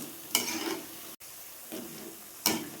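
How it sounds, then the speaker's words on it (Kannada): Cabbage Manchurian fries gently in oil over a low flame, with soft sizzling and a few brief scraping stirs of a spoon in the pan, heard close and fairly quiet with no talking. "ಸಣ್ಣೂರಿಲಿ ಚೆನ್ನಾಗಿ ಫ್ರೈ ಮಾಡ್ಕೊಳ್ಳಿ"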